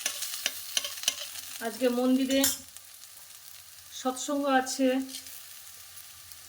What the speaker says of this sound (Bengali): এই যে আলু ভাজা করছি।